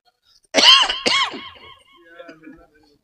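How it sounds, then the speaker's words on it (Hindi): An elderly man preacher gives two harsh, close coughs in quick succession, followed by a faint raspy throat-clearing trail that fades out. "फंस जाइएगा, खांसी उठ रही"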